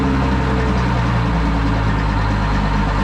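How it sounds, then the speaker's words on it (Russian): An original two-stroke diesel engine from the 1950s in a narrow-gauge locomotive runs steadily at idle: a loud, close, unbroken low rumble with no pauses. "послушать, как работает самый настоящий двухтактный дизельный двигатель 50 какого-то года выпуска"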